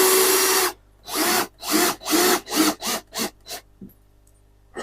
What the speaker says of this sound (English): Take my drill. I have it at the lowest torque setting, so I can't over tighten these.